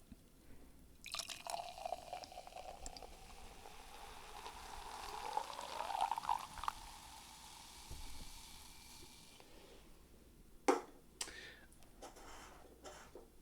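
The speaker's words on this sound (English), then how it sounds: "let me pour my second first." Hard seltzer pours into a glass with a steady liquid splash and fizzing that builds over several seconds, then tapers into faint bubbling, with a sharp clink or tap near the end.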